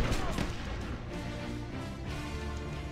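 Ship cannons fire in the video game Sid Meier's Pirates!, a run of booming shots over a continuous bed of game sound.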